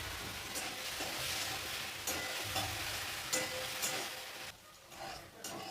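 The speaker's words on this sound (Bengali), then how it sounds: "আলুটা দেখো কি সুন্দর ভাজা হয়ে গেছে।" Potatoes fry in a pan with a little salt and turmeric, giving a steady, close sizzle that runs throughout with brief stirring scrapes and no voices.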